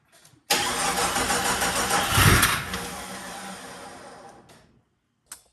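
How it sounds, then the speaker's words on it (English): Jeep XJ with a swapped 4.0 engine cranking and trying to fire, a loud, steady starter-driven churn for several seconds with a brief surge midway, fading out, then a short knock near the end; no talking. "So let's fire it back up, or try to, and see if it'll start this time."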